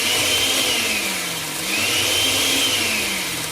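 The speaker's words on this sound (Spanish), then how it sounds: "Una licuadora." A kitchen blender whirs continuously at close range, its motor pitch dipping and rising slightly midway before cutting off abruptly at the end.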